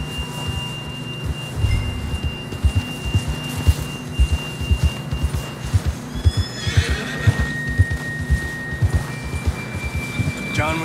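In the game Red Dead Redemption 2, a horse whinnies loudly and clops along with repeated hoofbeats over a low rumbling ambience, the neigh rising midway through against steady thudding steps.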